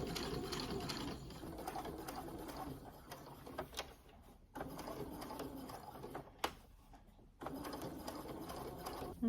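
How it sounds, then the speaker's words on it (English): A home sewing machine stitches fabric pieces right sides together along a squiggly scallop line, running in steady mechanical bursts with brief pauses between runs, close and fairly quiet. "we're sewing right sides together along the squiggle to get my scallop"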